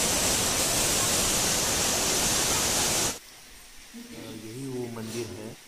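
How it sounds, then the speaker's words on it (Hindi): A large waterfall at Muktagiri, a Jain pilgrimage site, roars as a loud, steady broadband rush for about three seconds, then cuts off abruptly, leaving a quieter background where a person begins speaking. "तो ये है यहाँ का वाटरफॉल जो कि बहुत बड़ा है"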